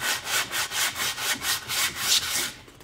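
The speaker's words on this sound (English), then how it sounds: "Take one of your little sandpaper ends and then just cup it around the edge." Sandpaper cupped by hand rubs back and forth over the edge and end grain of a wooden sign, giving steady rhythmic scratchy strokes, about four per second, close and alone with no talk.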